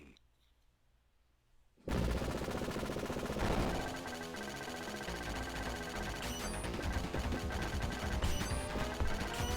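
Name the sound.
rapid gunfire in video game Contra Hard Corps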